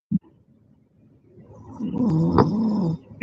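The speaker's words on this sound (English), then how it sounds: "Sounds like you snoring." Loud snoring from someone dozing off during a live talk show broadcast, a rough rumbling breath that swells for about a second and a half with a sharper snort partway through, heard close and alone.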